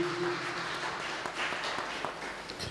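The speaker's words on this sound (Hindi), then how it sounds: "जोरदार तालियां प्रभु की महान उपस्थिति के लिए।" A congregation at a worship service applauds with steady clapping at a moderate distance, with a faint sustained tone under the clapping at the start.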